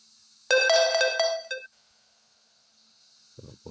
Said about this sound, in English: I didn't mute my phone.